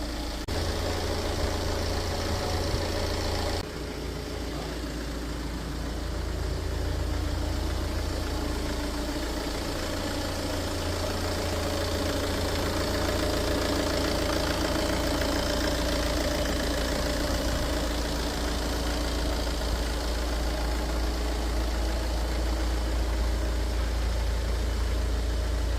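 A Tata Safari engine idles after an overhaul, a steady low rumble with even mechanical knocking that carries on unbroken and alone for the whole stretch.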